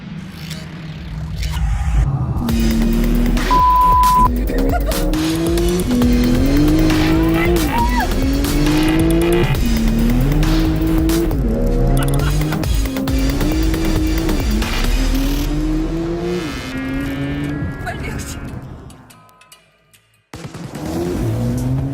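Porsche 911 Turbo S accelerating hard with tires squealing, a loud, continuous engine roar climbing through repeated gear shifts for most of the stretch, then dropping away briefly before resuming near the end.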